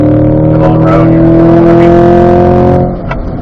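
A Corvette engine on a race track accelerates hard, holding a loud, steady high-pitched engine note close by for about three seconds before the throttle eases slightly at the end.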